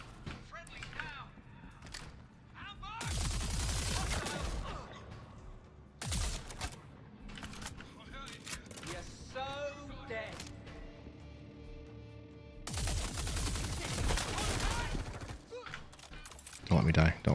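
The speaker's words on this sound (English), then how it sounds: "Just keep shooting." Gunfire in the video game Star Citizen, with long, loud bursts of automatic shooting separated by quieter stretches of clicks and mechanical noises, while a player talks at times between and over the shots.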